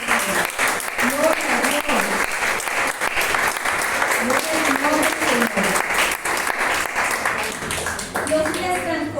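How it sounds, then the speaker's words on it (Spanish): Church congregation applauding loudly and continuously throughout, a dense steady roar of clapping with a preacher's voice speaking over it. "Denle un aplauso al Señor por eso."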